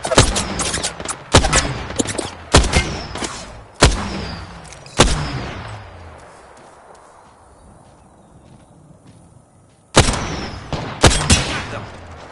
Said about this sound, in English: Enemies are shooting.